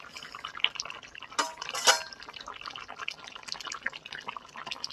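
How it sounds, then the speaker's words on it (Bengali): Pabda fish curry poured from a pot into a bowl, giving faint wet splashes and drips with a couple of brief louder sloshes, soft and close. "এবার আমি এই যে এই গামলাতে ঢেলে নেব।"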